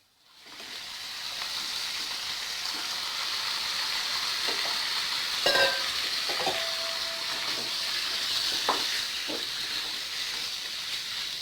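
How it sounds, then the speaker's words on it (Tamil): Chicken for a country-chicken biryani is added to cooked masala and stirred, producing steady sizzling and frying hiss with occasional scraping and clinking from stirring, close up and with no talking. "இப்போ நம்ம எடுத்து வச்சுருக்க சிக்கனை சேர்த்துக்கலாம்."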